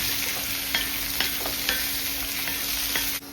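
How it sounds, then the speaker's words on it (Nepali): Onions with potatoes and pumpkin frying in a pan are stirred with a utensil, giving steady sizzling broken by several distinct scraping strokes, close and fairly quiet, with no talking. "अनि प्याजलाई पनि मजाले चलाउने।"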